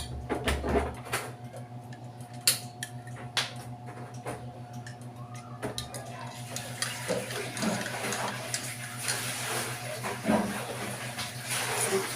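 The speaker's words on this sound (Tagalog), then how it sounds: "Walang mainit na tubig. Pakulo lang muna ako" Water heats with a soft steady hiss that grows into a rushing bubble, accompanied by faint ticking, close and without voices.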